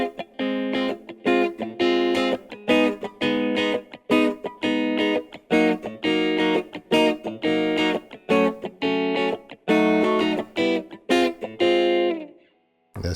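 Electric guitar strums the chords of a song in choppy rhythmic bursts of rich jazzy chords, bright and close, with no voices, and stops briefly just before the end.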